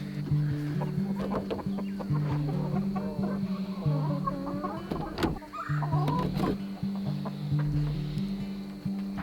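Chickens cluck repeatedly at close range in a backyard farm setting, a steady chorus of short overlapping clucks and murmurs with no talk over them.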